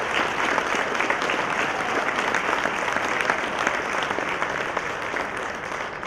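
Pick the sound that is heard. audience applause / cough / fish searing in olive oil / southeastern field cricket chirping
audience applause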